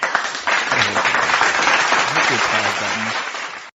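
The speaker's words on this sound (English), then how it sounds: "I need some applause" Applause sound effect: a dense burst of clapping and cheering from a crowd that swells in quickly and holds steady for a few seconds before cutting off abruptly.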